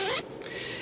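A quick zip comes from the top zipper of a tote bag being pulled open, one short rasp at the start followed by quiet handling.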